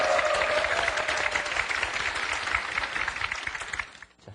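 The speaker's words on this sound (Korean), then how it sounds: "박수 한번 드릴까요?" A studio audience on a Korean talk show applauds steadily, a dense wash of clapping that holds for about three and a half seconds before fading out.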